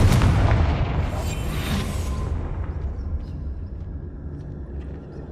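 A Confringo blasting spell explodes in the video game Hogwarts Legacy, one loud, deep boom that rumbles and slowly decays over several seconds, with no talking.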